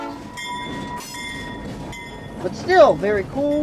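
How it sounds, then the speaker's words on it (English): A passing train sounds its horn, sustained loud tones near the start giving way to a closer, louder blast, while someone talks over the rail noise. "Railroad, train, and horn, and locomotive, and everything else."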